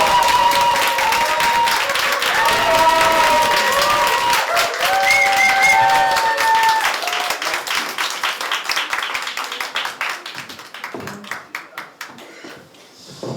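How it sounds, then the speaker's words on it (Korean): An audience at a public broadcast taping claps to welcome a guest lawmaker, loud sustained applause with a few whoops and tones at first, then thinning into scattered claps that fade out toward the end. "네, 박수."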